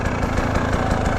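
A 2017 KTM 300 dirt bike engine idles with a steady, close, uneven two-stroke burble, loud and alone for just over a second.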